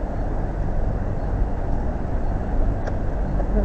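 A car engine runs with a steady low rumble close by, holding at a constant level throughout with no talk.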